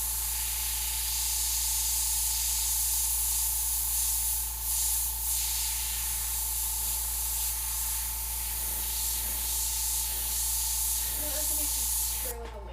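An airbrush sprays paint while a Chinese dragon is being painted: a steady, loud, continuous hiss runs nearly unbroken over a constant low hum, with brief pauses near the end.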